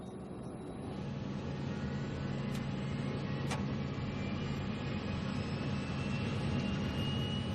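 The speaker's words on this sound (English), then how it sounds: "The airplane is on the runway, accelerating, getting faster." A fixed-wing airliner accelerates down the runway for takeoff, its jet engines producing a steady, loud roar that builds slightly over several seconds, with a couple of brief sharp ticks partway through.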